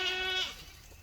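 Goats bleat on a property during brush clearing, a single drawn-out, nasal cry close by that fades after half a second into quiet background.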